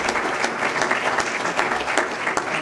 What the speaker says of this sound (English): let's have a round of applause for all 3 speakers here